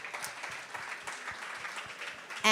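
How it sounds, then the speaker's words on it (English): An audience at the MTN Bushfire 2022 festival launch applauds, a moderate, steady patter of many hands clapping at some distance that holds evenly and cuts off abruptly at the end. "I feel like that deserves a round of applause."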